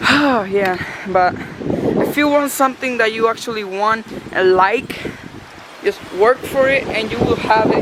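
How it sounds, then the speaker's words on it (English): Heavy wind buffets the microphone in low rumbling gusts while a person talks over it throughout. "I'm sorry again for the wind noise. It's super windy."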